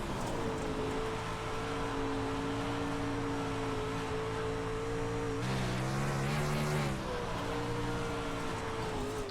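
A race car engine roars steadily on a dry slick dirt track in a racing video game, a continuous droning note that swells briefly as the throttle opens midway, then settles back.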